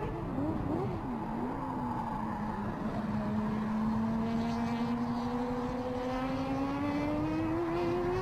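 A Mazda 767B race car drives around the track at WTAC, its engine a loud, sustained drone that climbs steadily in pitch as it accelerates, heard close and alone without talk.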